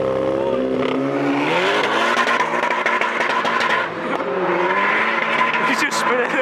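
Car wheelspin at an outdoor car meet in Hull, a loud revving engine with continuous squealing tyres sustained for several seconds, with people talking nearby.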